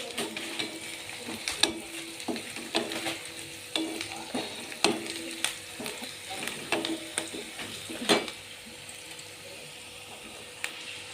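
Onion frying in a pan for dal with black masala, a steady sizzle broken by repeated sharp scrapes and clacks of a spoon stirring against the metal, close and moderately loud, with no one speaking.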